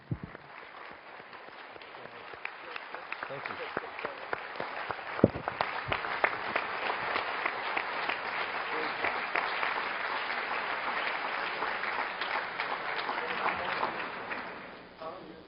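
An audience applauds panelists and a guest at a talk on sports and racism, clapping rising from a few hands to full, sustained applause before tapering off, with a brief spoken thanks early on.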